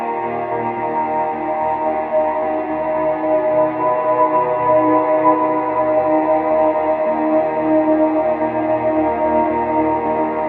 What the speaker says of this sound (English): I've added a sort of dark pad to the mix.